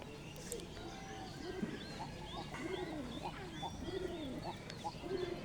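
Pigeons kept in a home loft coo in repeated low, throaty rolling calls, several overlapping phrases at close range over a steady background hum.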